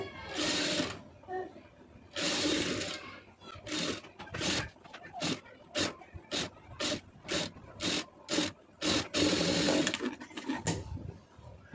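A sewing machine stitches a puff sleeve in short, close bursts of rapid mechanical whirring, some longer runs early on, then a steady series of brief stop-start spurts with pauses between.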